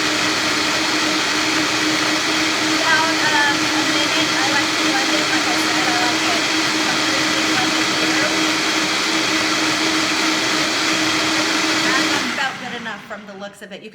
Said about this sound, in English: You can kind of see the particles of food break down in the blender.